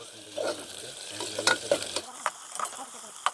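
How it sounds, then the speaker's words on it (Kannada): Eight sliced onions fry and roast in a pan, a soft background sizzle under repeated spatula scrapes and knocks, with a low hum early on. "ಈರುಳ್ಳಿ ಹಾಕಿ ಫ್ರೈ ಮಾಡ್ಕೊಂಬ"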